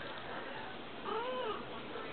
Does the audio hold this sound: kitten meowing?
yes